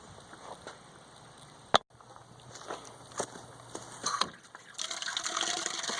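Farm tap water runs into the cooling system of an LS-swapped Volvo 244, a soft rush that swells into a louder, steady gush near the end, after a few scattered clunks and a sharp knock.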